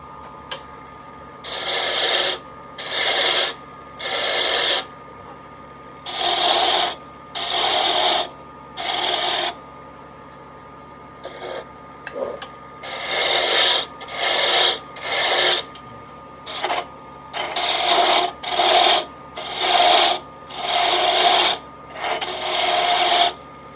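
A chisel cuts a wood handle for a draw knife as it spins on a lathe. Close, loud, scraping bursts about a second long come in uneven runs, separated by pauses where only a low motor hum remains.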